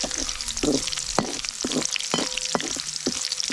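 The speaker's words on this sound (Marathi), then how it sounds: "तर लसूण भाजून घेते" Garlic roasting in hot oil in a home kitchen pan, a steady crackling sizzle broken by a handful of sharp spoon scrapes and taps as it is stirred, close and fairly loud, with no voices.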